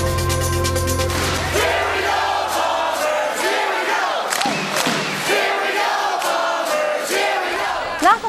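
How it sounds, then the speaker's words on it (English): Crowd of Winnipeg Blue Bombers football fans cheering on their team, a loud sustained roar of many voices with shouts and chanting rising and falling throughout, following a brief musical tone at the start. "like the sound of Bomber fans cheering on their team"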